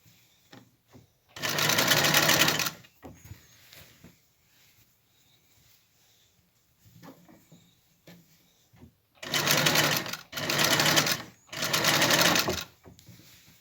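A Singer sewing machine stitches along a collar in loud, steady bursts of rapid needle chatter: one long run, a quiet stretch, then three runs in quick succession, with soft speech and handling in the pauses.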